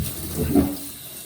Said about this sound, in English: All right, so we're gonna pour that out, give it a quick rinse.